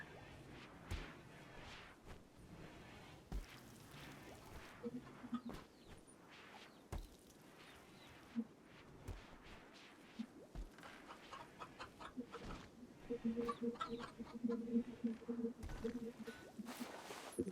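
Chickens cluck in a RimWorld colony, the sounds scattered and small at first and then growing thicker and steadier toward the end, with soft game effects and occasional talk underneath.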